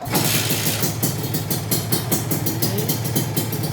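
A Kawasaki Ninja RR motorcycle's two-stroke engine runs loud and close, with a dense, rapid rattling pulse that holds steady through the clip and has no voices over it.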